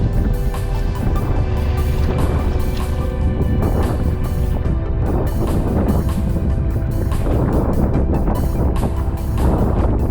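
A stiff northeasterly breeze buffets the microphone while sea kayaking off the Isle of Bute in Scotland, a loud, continuous wind roar with gusty surges and a steady low rumble, no voices.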